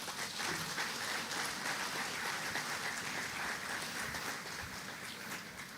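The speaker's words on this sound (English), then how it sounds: "I didn't expect an applause in the salutation." An audience at a ceremony in Grenada unveiling the Golden Jubilee EC $50 note breaks into applause during the salutations. The clapping is dense, even and fairly faint, with no voices over it.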